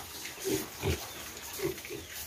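Pigs on a pig farm grunting and snorting in short, irregular bursts, close by, with a steady background hiss and no talking.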